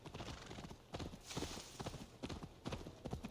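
Horse hooves clip-clop steadily in Assassin's Creed, a close, rhythmic trot of repeated hoof strikes over a continuous background bed, with no talk.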